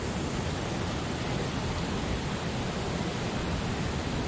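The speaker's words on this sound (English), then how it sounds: "Sound of rushing water." Rushing water on the river at North Mill in Midhurst, a steady broadband roar of flowing water, constant and fairly close, with no talk over it.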